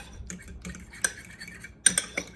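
Scrambled eggs being whisked with a utensil in a bowl between microwave bursts, giving light metallic clinks and scraping taps in small irregular clusters, close and fairly quiet, with no talk.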